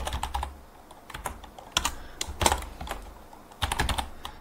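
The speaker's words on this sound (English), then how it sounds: "So we can type RSI" Typing on a computer keyboard while entering an indicator name in charting software: irregular clusters of close, crisp key clicks with short pauses between bursts, fairly quiet and without talk.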